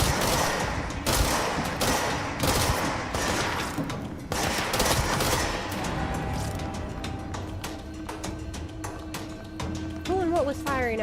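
Rapid gunfire in the video game Control, dense bursts of sharp shots rattling close and loud for several seconds, then thinning into scattered single shots, with a voice heard at the end.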